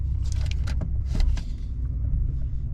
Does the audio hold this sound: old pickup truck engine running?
yes